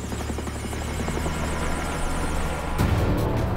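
A helicopter flies low over shallow water and flood zones around a lake, spraying for mosquitoes, its rotor chopping loudly and steadily before the sound surges closer near the end.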